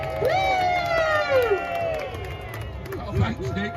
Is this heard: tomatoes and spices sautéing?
no